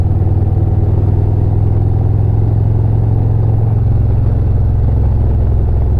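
A Harley motorcycle accelerating out of a turn on a Florida road, a loud steady engine drone with low rumbling harmonics that swells slightly, heard up close without any talking.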